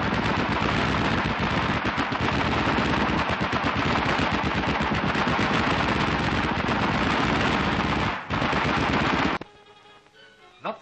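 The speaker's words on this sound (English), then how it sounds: "They mount their guns with the precision of seasoned troops, and it's not long before they're all blazing away." Several machine guns fire continuously in a loud, dense barrage during wartime troop training in South Africa, with a brief break near the end before the firing drops away to quieter background sound.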